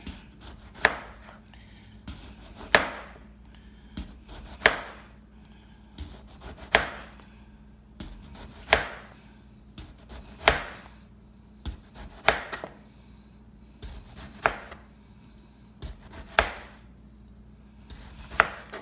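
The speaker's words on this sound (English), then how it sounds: "I'm gonna cut one for you, show you how I cut it. I cut it in at least 1/4 inch slices" A knife chops through eggplant into quarter-inch slices on a board, about ten crisp, evenly spaced cuts roughly two seconds apart, close and clear with no talking.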